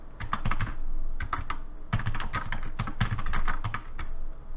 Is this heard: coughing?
no